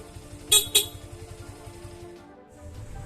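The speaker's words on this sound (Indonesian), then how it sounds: "Dan ada juga klakson." A motorcycle horn gives two short, quick honks over a low idling engine hum, followed by quieter background noise.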